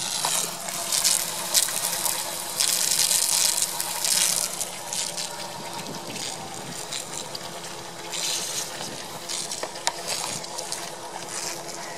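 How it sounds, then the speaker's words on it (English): Pumps push Orange River water up through pipes for growing crops, giving a continuous rushing, gushing water noise with churning and rattling bits over a low background rumble. "those pumps are pumping this valuable resource, pumping this water up through these pipes."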